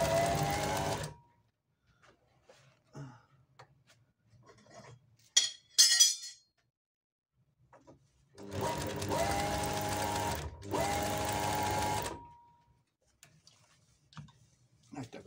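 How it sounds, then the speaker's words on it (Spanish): A Brother industrial sewing machine runs a straight stitch with loosened thread tension. It sounds in two or three loud, close bursts of rapid mechanical whirring, separated by quiet pauses with small clinks and handling noises. "Está cosiendo flojo, que era lo que quería lograr."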